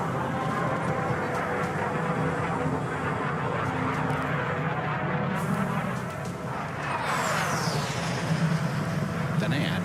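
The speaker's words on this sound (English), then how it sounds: "our team recorded jet sounds at the London Air Show a few years back" A jet roars past at the London Air Show, a loud, continuous broadband rumble that swells and shifts pitch as it flies by, with voices faintly underneath.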